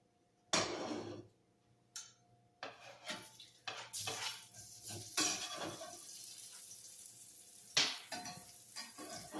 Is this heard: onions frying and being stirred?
yes